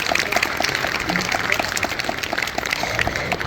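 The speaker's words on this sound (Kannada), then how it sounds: "ಅದಕ್ಕೆ ಅವರು ನಮ್ಮ ಎಲ್ಲರೂ ಧನ್ಯವಾದಗಳನ್ನ ಅರ್ಪಿಸೋಣ ಚಪ್ಪಾಳೆಯೊಂದಿಗೆ" An audience applauds at an International Yoga Day event in Hebbal, a crowd of hands clapping in a quick, even patter that holds steady and fairly loud throughout.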